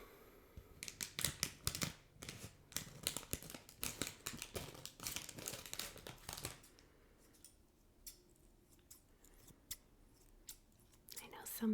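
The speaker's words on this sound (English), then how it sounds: "I got my scissors." Scissors snip and crinkle through a candy wrapper up close, a dense run of sharp cuts and crackles for several seconds, then scattered quieter snips and rustles.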